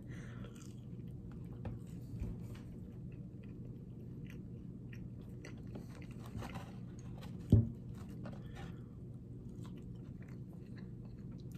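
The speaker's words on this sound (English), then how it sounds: "Let me try the fries real quick as well." Mr Beast Burger fries being chewed, with soft, steady crunching and mouth sounds close to the mic and one sharper bite standing out near the end.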